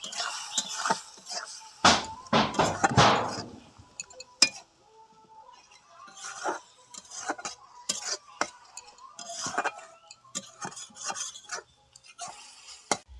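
Chili and salt being stirred in a cooking pan, giving repeated scraping clinks and taps of a utensil against metal, loudest in a dense burst early on and then scattered, close by with no talk.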